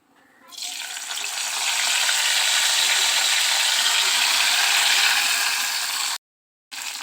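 Green chilies and curry leaves hit hot oil in a kadhai, and a loud, steady sizzle builds within a second, holds close and even, then cuts off abruptly before resuming briefly.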